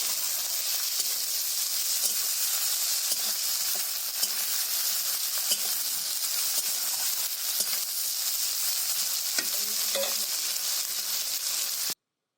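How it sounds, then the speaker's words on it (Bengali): Taro stolons (kochur loti) fry in a pan village style, giving a loud, continuous hissing sizzle with light stirring scrapes that cuts off abruptly at the end. "ফ্রাই করতে হবে।"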